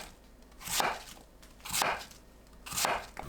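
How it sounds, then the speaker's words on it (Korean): A knife cuts a seeded apple into bite-size pieces on a board, giving three separate crisp, crunchy slices about a second apart, close and clear with no talking. "사과는 씨 빼고 한 입 크기로 썰어줍니다."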